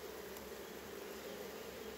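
Honeybees buzzing around an open hive as the lid is eased shut, a faint, continuous droning hum with no voices over it.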